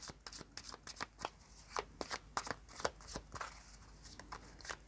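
Tarot cards being shuffled by hand, a quick run of crisp riffling snaps in an uneven rhythm, close and soft against a quiet room with no talking.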